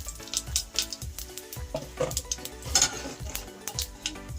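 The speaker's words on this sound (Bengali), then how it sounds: "সেই তেলেই আমি জিরে, গোটা জিরে আর একটা তেজপাতা দিয়ে দিলাম।" Whole cumin seeds and a bay leaf crackle in hot oil left from frying rohu fish for a cauliflower fish curry, a light sizzle broken by repeated sharp clinks of a spoon against the pan.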